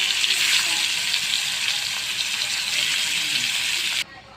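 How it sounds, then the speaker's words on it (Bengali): Shing fish frying lightly in a pan give off a steady, loud hiss and sizzle that holds for several seconds and then cuts off abruptly. "এখানে একটা প্যান বসাচ্ছি, ফেরত আমি সবগুলো মাছ একটু হালকাভাবে ভেজে নিব"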